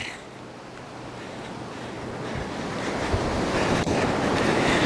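Surf rolls and washes up a beach at a receding tide, a broad continuous roar that swells louder over a few seconds, mixed with wind buffeting the microphone.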